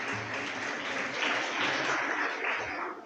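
Steady applause from the audience at a prize-giving ceremony for a reading and calligraphy competition at a Solapur junior college, continuous and fairly even throughout with no talk over it.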